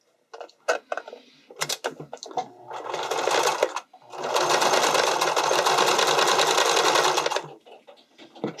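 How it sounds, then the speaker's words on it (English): A sewing machine zigzag-stitches the edge of a bodysuit in short bursts, then runs in one long, steady, rapid mechanical chatter at close range before stopping. "you're just going to zigzag that on"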